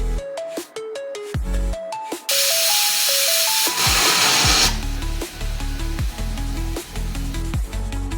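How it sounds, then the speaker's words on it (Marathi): Steam hisses loudly from a pressure cooker boiling chickpeas with bay leaf and salt, a sustained burst of roughly two seconds in the middle, with a steady tonal melody playing throughout. "आपल्याला कुकरच्या 4 शिट्ट्या काढून घ्यायच्या"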